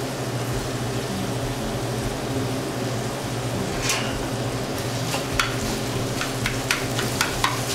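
Pancetta, onion and sliced white mushroom sauté together in a pan with a low, even sizzle. Occasional scraping stirs grow more frequent toward the end, and no one speaks.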